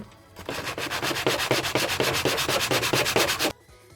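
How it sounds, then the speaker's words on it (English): Sandpaper rubbed on a flat tabletop, a rapid rhythmic series of rasping back-and-forth scrapes, about twenty strokes, loud and close, stopping abruptly. "Put it on the table, perfect. on the flat surface, and then sandpaper."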